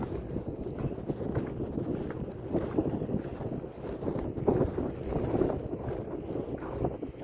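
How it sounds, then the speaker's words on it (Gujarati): Cool outdoor wind buffets the microphone in a steady, low, rumbling rush that swells slightly now and then, with no other clear sounds. "મસ્ત ઠંડો ઠંડો પવન પણ ચાલુ છે"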